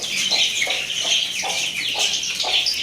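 Chickens cluck and squawk in a rhythmic series of calls, close by, with a busy chorus of birds behind them, as chickens are let out of their coop.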